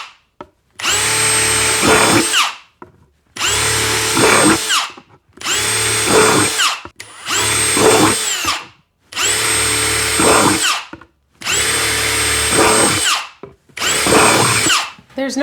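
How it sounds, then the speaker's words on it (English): A power drill bores drainage holes in the bottom of a plastic container, seven loud, close bursts of high whining motor noise, each lasting about a second and a half, separated by short pauses. "We're going to drill drainage holes in the bottom, so take your drill and obviously carefully drill some holes."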